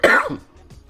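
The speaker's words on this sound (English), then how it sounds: "I'm still pretty sick, so I might be coughing throughout this" A sick man gives a single harsh cough and throat clear, close and loud, fading quickly into quiet.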